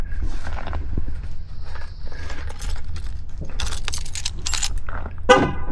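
Keys jangle and click close by as a truck is locked outdoors, several bright metallic rattles over steady background rumble, ending with a sharp short beep.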